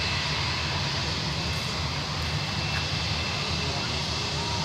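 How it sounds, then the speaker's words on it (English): A FedEx cargo jet taking off from runway 16 right at Sydney Airport, heard as a steady, broad engine roar at a distance that holds level throughout. "FedEx is on the move. And they've just been cleared for takeoff"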